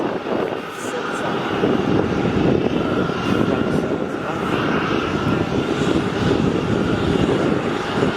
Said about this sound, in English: The Virgin Australia A320. Now on an even closer final.